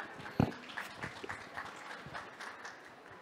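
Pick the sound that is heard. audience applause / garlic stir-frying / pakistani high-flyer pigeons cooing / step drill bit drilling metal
audience applause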